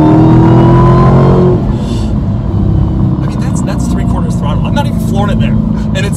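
A 2018 Dodge Challenger SRT muscle car engine revs loudly up close, then drops to a heavy rumbling idle as people talk over it.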